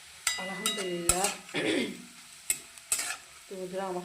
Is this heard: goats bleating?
no